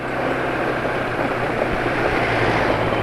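An engine running on Caltex Delo Sport 15W40 oil idles with a steady, coarse, rough drone, loud and continuous throughout with no talk.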